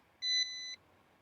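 A single electronic beep from a Ruko F11 Pro 2 drone unit that beeps until connected, clear and close, sounding for about half a second against a quiet background.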